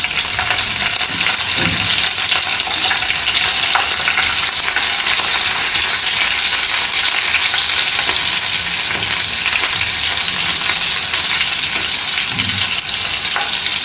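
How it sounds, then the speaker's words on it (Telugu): Green chillies fry in oil in a pan, a loud steady sizzle that holds unbroken throughout, with a few soft stirring scrapes and no talk. "మిరపకాయలు కొంచెం వేగాలి"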